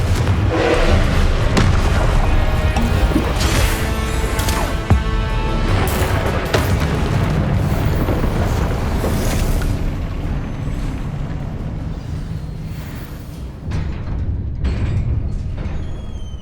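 Confringo fire-blast spells exploding during combat in the Hogwarts Legacy video game, a continuous dense roar of booms and rumbling blasts, loud and sustained with one sharp impact midway.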